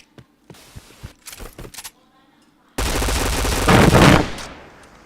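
Gunfire in a shooter video game with an AWP sniper rifle: scattered sharp shots and clicks early on, then a loud sustained burst of rapid firing that swells and fades near the end.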